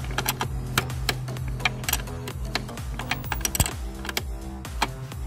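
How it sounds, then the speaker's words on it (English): A 10 mm wrench tightens the positive and negative battery terminals on a 2013 Mazda 3, making rapid close metallic clicks and ticks in a steady, dense rhythm over a low hum. "we're gonna grab our 10 millimeter wrench and we're gonna go ahead and tighten up the positive and the negative"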